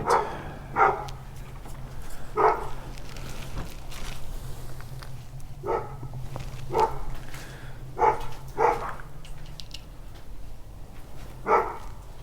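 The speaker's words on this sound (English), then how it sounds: "If my neighbor's dog would shut up, that would be great." A neighbor's dog barks repeatedly from a moderate distance, sharp single and double barks spaced every second or two over a steady low hum of background noise.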